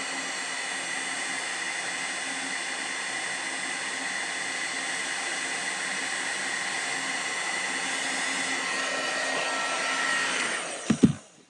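Heat tool blowing hot air steadily over embossing glitter on paper, a loud, close, continuous whooshing drone that cuts off with a few clicks at the end.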